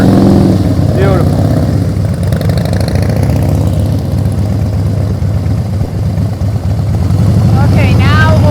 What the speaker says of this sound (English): Little throttle, hear the throttle.